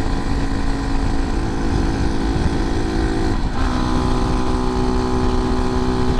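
Vitacci Titan 250 motorcycle cruising steadily in fifth gear, a continuous engine drone with strong wind rush that stays loud and even throughout, with only a brief dip midway.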